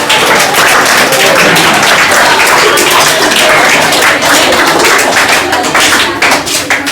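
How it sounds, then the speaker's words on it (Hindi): An audience applauds students at a school event, with dense, sustained clapping from many hands filling the room at steady loudness throughout. "ताली बजाइए भाई।"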